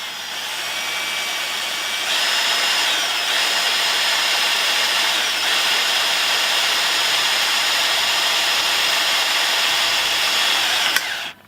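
A power drill grinds continuously for roughly nine seconds as it bores into steel pipe and reinforcing rod, loud and unbroken, then cuts off abruptly.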